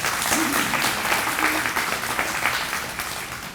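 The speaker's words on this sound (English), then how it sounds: "if you would give him a round of applause, please" A crowd at a pet connection center ribbon cutting ceremony gives a round of applause for the sheriff, dense steady clapping close by that tapers slightly toward the end.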